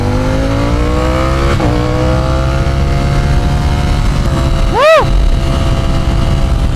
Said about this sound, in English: I love this bike so damn much, Roots.